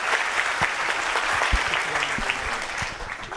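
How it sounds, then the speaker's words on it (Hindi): An audience at a Magic of Memory training program demo gives a dense, steady round of applause that fills the whole stretch, with many hands clapping at once and no pause. "तो इनके लिए सबसे पहले मैं एडवांस में ताली दे रहा हूँ।"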